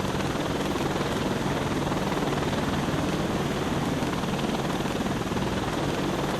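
A helicopter in the VR game Defender Patrol drones on continuously, a loud, steady rotor roar with no pauses and nobody talking.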